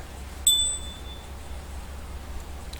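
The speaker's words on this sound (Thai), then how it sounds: "เดี๋ยวอาจารย์จะสั่นกระดิ่ง" A hand bell rings during a Thai fortune-telling blessing. One clear, bright ding sounds close by and fades over about a second against a quiet low hum.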